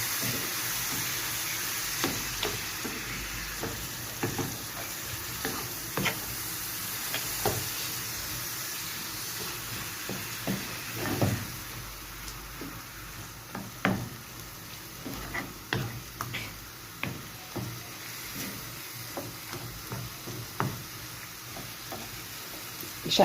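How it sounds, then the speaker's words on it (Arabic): Thin meat slices searing in a hot pan for a green bean tagine, a continuous loud sizzle broken by repeated sharp scrapes and clacks of stirring, with bursts of spitting hiss. "نشحرهم باقي غادي يرجعوا يطيبوا مع اللوبيا في الطاجين"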